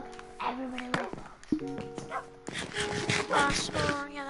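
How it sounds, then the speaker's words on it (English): A Minecraft dog whimpers and yips in a string of short, pitched cries, close and fairly clear, with a person talking over parts of it. "all of our dogs went outside. This is my dog."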